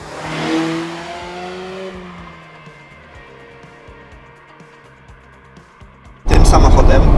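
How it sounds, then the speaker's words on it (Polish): A 2015 Mazda MX-5 roadster with a 1.5 engine revs in rising, shifting tones as it accelerates, then settles to a low drone before a sudden loud blast of wind and road noise. "Za chwilę będziemy mieli okazję sprawdzić, jak ten samochód zachowuje się na drogach."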